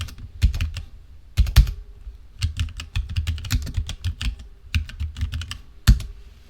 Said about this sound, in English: I'm going to type in Internet browser again.